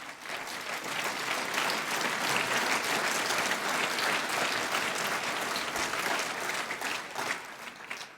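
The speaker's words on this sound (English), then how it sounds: "Please give a big round of applause." A big conference audience applauds its partners in a long, even wash of clapping that swells early, stays full and steady, then tapers slightly near the end, with no talk over it.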